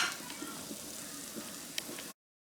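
Onions cook in butter in a pan for beef stroganoff, giving a faint, even hiss and gentle crackle that carries on steadily until it cuts off abruptly.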